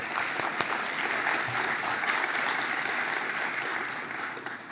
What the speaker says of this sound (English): So please warm applause for those people.